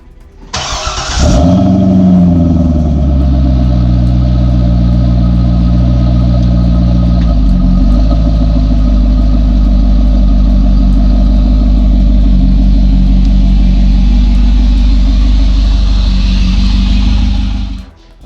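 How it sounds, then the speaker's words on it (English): A Chevrolet Corvette engine fires up and settles into a loud, steady rumbling run close by as the car is moved, holding a constant low drone before cutting off at the end. "It's time to move the Corvette out."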